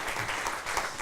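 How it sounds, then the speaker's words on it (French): An audience at a media talk gives a brief burst of dense clapping that fills the whole moment at moderate loudness. "Donc on peut applaudir."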